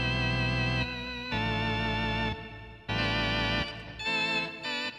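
Martinic Combo Model V organ plugin playing sustained chords in bursts with short gaps between them, bright and harmonically rich with a warbling chorus-like tone, loud and alone.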